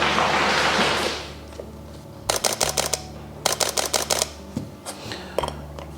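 Sony A7 IV camera with a replaced shutter firing in rapid bursts, crisp mechanical clicking in two quick runs and a few single shots, close and clear, following a brief rustle.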